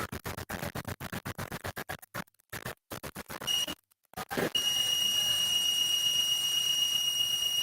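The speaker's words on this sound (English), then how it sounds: "So this way you can trigger the buzzer" Rapid clicking taps give way to a steady, piercing electronic buzzer tone that keeps sounding close and loud after a brief silence.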